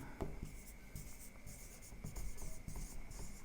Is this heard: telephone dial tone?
no